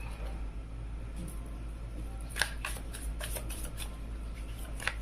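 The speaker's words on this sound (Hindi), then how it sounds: "चलिए अब आपके पार्टनर के लिए भी हम यहाँ पे कार्ड्स ओपन कर लेते हैं" Tarot cards being shuffled and laid out for a love reading, with a series of soft riffling flutters and card snaps close to the microphone over a steady low hum, no talk.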